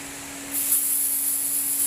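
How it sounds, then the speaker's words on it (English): Spray adhesive hisses onto the edges of a chair back being re-covered with upholstery in place of cane. The close, steady spray starts after about half a second and runs unbroken to the end. "I'll probably spray all the edges so that it'll dry in time"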